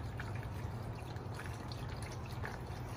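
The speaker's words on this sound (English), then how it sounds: "I'm literally gonna pour this entire thing of chicken broth in here" A full quart of chicken broth pours into a pan for competition barbecue chicken thighs, giving a soft, continuous liquid splash and trickle that is faint and steady, with no voices.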